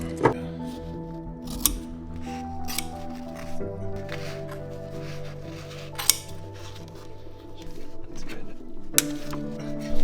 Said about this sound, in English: cut the tube open that holds the wiring